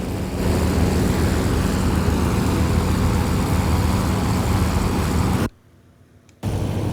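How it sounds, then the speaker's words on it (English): Bell X-22 tilting ducted-fan V/STOL aircraft in a flight simulator, a loud steady roaring drone of the fans that cuts out abruptly for about a second before resuming. "the X-22 is a V-STOL X-plane for tilting ducted fans"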